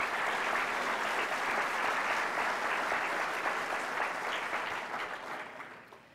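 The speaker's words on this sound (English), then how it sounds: "So let's give them a round of applause." Steady applause fills a room at a chamber of commerce breakfast meeting, many hands clapping at an even level for several seconds before fading out toward the end.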